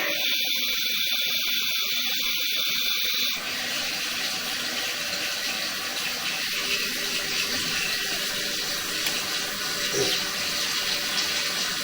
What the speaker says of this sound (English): The first toilet that was flushing.